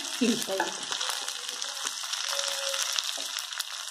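Okra with turmeric fries in a pan, making a bright, continuous sizzle with a few clattering stirs near the start and scattered light taps after.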